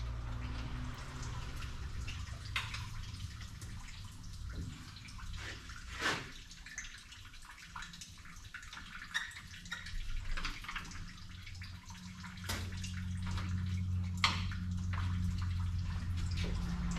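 Antifreeze drains from a car radiator in a garage, a faint steady trickle of liquid with scattered drips and occasional clanks, quiet and continuous.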